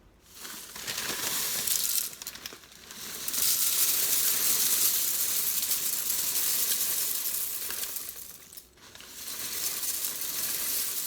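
A Thermomix runs on reversed spoon speed, gently stirring and melting chocolate at 50 degrees Celsius, giving a steady, close whirring rasp with soft scraping and a couple of brief pauses, and no one talking.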